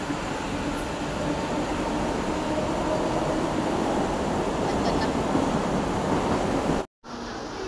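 A train pulls into a railway station before a 5:22 departure, a steady loud rumble and rolling roar filling the platform for several seconds before cutting out abruptly near the end.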